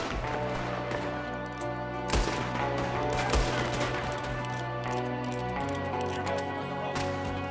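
In the Red Dead Redemption 2 video game, a rapid fusillade of gunshots cracks through a window against a steady bed of dense background sound, the shots close and dominant in a sustained exchange with no speech.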